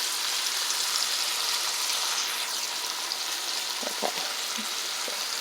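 Ribeye steak fries in a pan with a steady, moderately loud sizzle that holds evenly, joined by a few soft pops and crackles near the end, with no voices.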